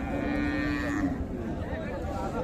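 A Friesian cow moos at a busy cattle market, with one long, loud, low bellow that fades out against a steady background of crowd murmur.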